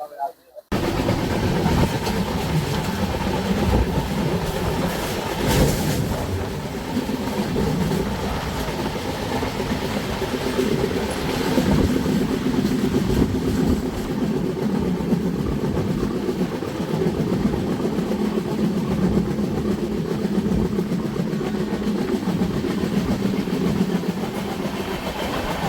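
A passenger train runs on rails between Ratnagiri and Thivim during the monsoon, a steady rumbling roar with rhythmic clatter from the wheels that continues without pause throughout, with brief talk in the carriage.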